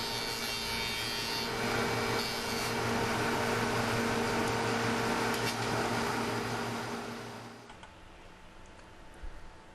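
A shop-built octet cutoff saw slices wood into puzzle pieces, giving a steady loud whirring drone with a gritty cutting rasp that winds down toward the end.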